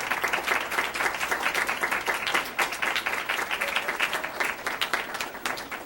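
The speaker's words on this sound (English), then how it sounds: "these students, first of all, deserve a huge round of applause for their work this year" A room full of people at a school board meeting claps in sustained, dense applause for students, steady and fairly close with no voices over it.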